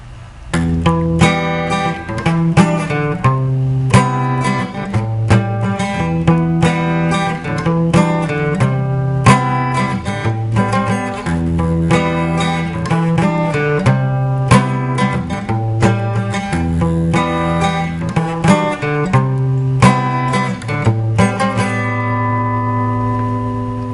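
A strummed guitar plays the repeating chord progression of a song, steady and full, with a low bass line underneath, continuous and fairly loud throughout.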